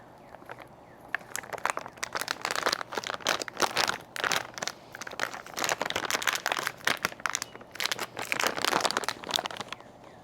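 Close, busy crinkling and crunching of a plastic bag being pulled and torn at, continuous rustling bursts without any talking.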